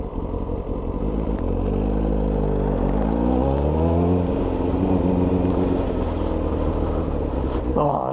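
Motorcycle riding through sandy construction-site streets in Hamburg, its engine droning loudly and close with rising and falling pitch as it accelerates, under steady wind and road noise.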